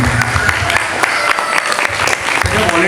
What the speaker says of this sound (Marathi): मला वाटतं इतक्या जोरदार टाळ्या झाल्या पाहिजे सगळ्या व्हॉलेंटियर्ससाठी